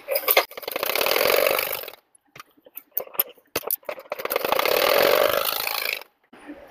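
Electric sewing machine stitching blouse fabric, running a half-inch seam and a double line of stitching; two sustained mechanical runs of steady motor whirr and needle chatter, each about two seconds, separated by quieter handling clicks.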